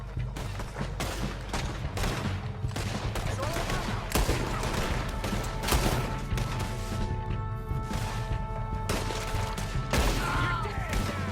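Dense, continuous gunfire in the Western video game Red Dead Redemption, with rapid bursts and sharp crashes layered over loud game music throughout a sustained shootout.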